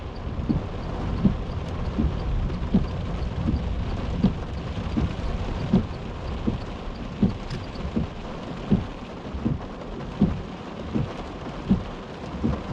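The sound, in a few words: heavy rain falling on a car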